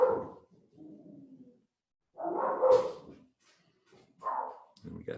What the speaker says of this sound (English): And we got dogs upstairs barking their fool heads off.